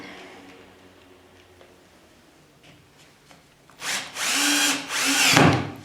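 Quiet shop handling sounds give way to a power drill driving small screws and bolts for shelf brackets, several short loud whirring bursts close by toward the end.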